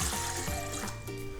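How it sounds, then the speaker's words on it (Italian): Water poured from a tap or jug into a stand mixer bowl for dough, a short, steady liquid trickle and fill with gurgling, close and continuous. "Per prima cosa nella planetaria mettiamo l'acqua"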